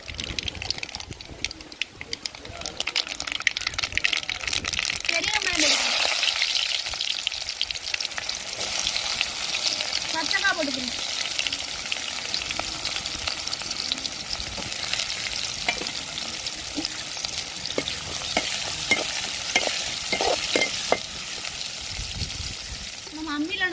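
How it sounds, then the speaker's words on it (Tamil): Mustard seeds frying in hot oil in a pan, a loud continuous sizzle and crackle that swells after the seeds go in, with stirring and occasional clatter, close and steady throughout. "சட்டி சூடாயிருச்சு நம்ம எண்ணெய் ஊற்றிக்கிறோம் நம்மளுக்கு என்ன நல்லாவே சூடாயிருச்சு கடுகு போட்டுக்கிறோம்"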